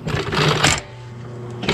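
Sewing machine running an overlock seam with a serger presser foot, a loud close continuous mechanical whir with a steady rhythmic hum throughout and a small shift in tone partway through.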